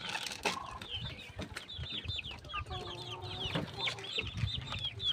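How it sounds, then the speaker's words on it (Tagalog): Chicken clucking repeatedly in a rustic kitchen setting, a steady run of close, loud clucks and calls over rustling background noise, with no talk. "may manok"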